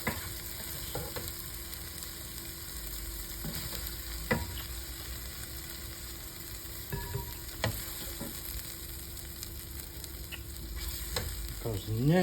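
Brisket stroganoff mixture sizzles steadily in a hot pan while a utensil stirs and scrapes through it, with occasional louder clinks and a sharper scrape near the end; no one speaks.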